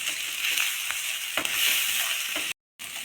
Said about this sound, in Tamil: எல்லாம் சேர்ந்து நல்லா வதங்கட்டும்